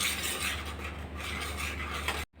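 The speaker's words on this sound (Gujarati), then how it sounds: "હવે આ બધું વસ્તુને સરસ હલાવી લેશું." Chole gravy with spices is stirred in a pan, a close, steady scraping and clinking of the utensil against metal that stops abruptly at the end.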